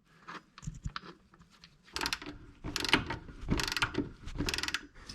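Hand tools tightening engine mount bolts on a 2009 Mini Cooper, giving a series of close metallic ratcheting clicks in short bursts, growing louder and denser toward the end, with no speech.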